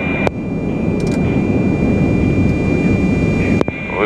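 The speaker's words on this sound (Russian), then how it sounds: "Выключаю двигатели." Engines of an An-22 turboprop cargo aircraft shutting down, heard from the cockpit as a loud, steady droning roar with a constant whine above it, a few brief clicks, no speech.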